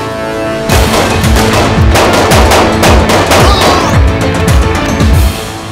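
Rapid bursts of loud, close automatic gunfire crack repeatedly for several seconds, the shots echoing in quick succession before stopping abruptly.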